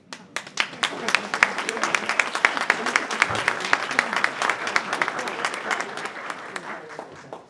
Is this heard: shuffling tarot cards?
no